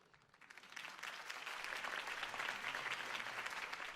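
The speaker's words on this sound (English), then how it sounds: "could have heard that applause" Applause from a crowd in the video game Batman: The Telltale Series swells in and builds to a steady, dense clatter of clapping that keeps going, fairly loud and close.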